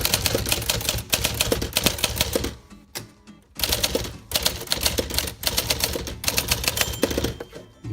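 Typing on a mid-1950s Remington Quiet-Riter typewriter: dense, rapid clacking keystrokes close up, with a short pause partway through, then more fast typing. No voices.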